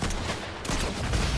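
Rapid bursts of pistol fire in the video game Fortnite, dense and continuous over a noisy mix, loud and close.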